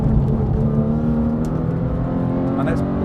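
Porsche 911 GT3 with a manual gearbox driven hard on a race track, its engine droning steadily at high revs from inside the cabin while someone talks over it.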